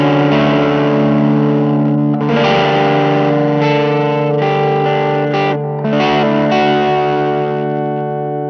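An electric guitar through a Limetone Audio fuzzhog fuzz pedal gives a loud, thick, heavily broken-up fuzz tone with sustained chords and short breaks, played alone without speech.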